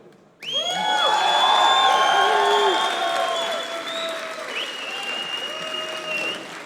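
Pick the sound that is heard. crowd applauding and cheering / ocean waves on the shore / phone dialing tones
crowd applauding and cheering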